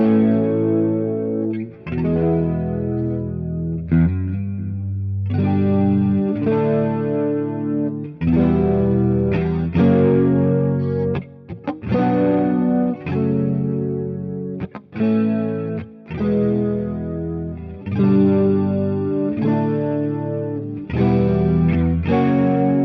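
An electric guitar in a mid-to-late-1980s style stereo rig plays clean chords and arpeggios through chorus and delay, with shimmering, swirling sustain and echoing note tails in a steady phrase with brief gaps.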